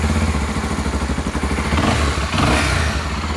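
A new motorcycle's engine thumps at idle with a rapid rhythmic pulse, then revs up briefly, loud and close.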